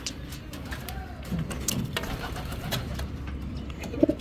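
Racing pigeons returning to their loft after a 60 km training toss give soft, faint coos against a low steady background hum, with scattered brief flutters and knocks nearby.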